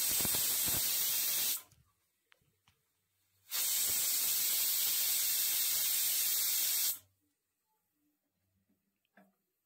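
A pressure cooker cooking pulao rice lets out two long, loud hissing whistles of escaping steam, close by, with near silence and faint clicks between and after the blasts.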